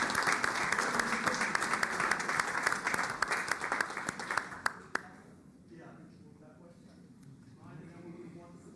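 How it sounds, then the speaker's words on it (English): Audience applause at a town board meeting, a dense burst of clapping for about five seconds that cuts off abruptly, leaving quiet room sound afterward. "I'd like to give you a round of applause"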